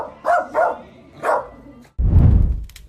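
Dogs give three sharp, close barks in quick succession, then fall silent before a burst of broad, rough noise near the end.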